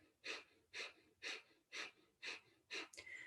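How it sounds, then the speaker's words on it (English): Rapid, rhythmic breath of fire yoga breathing, with six sharp forceful nasal exhalations evenly spaced and close to the microphone, quiet between pulses. "let's begin breath of fire"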